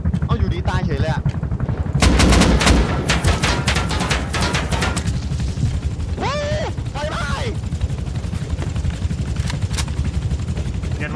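Gunfire in the survival game Rust, with a sustained, loud barrage of rapid automatic shots and scattered single reports over a constant rumbling background, while a voice talks over it.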